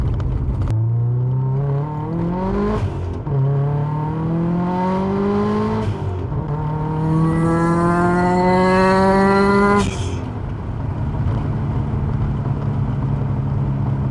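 A Subaru Forester STI with a big turbo pulls hard through several gears, each run climbing in pitch before a brief drop at the shift, ending with a high whining rise and then settling back to idle.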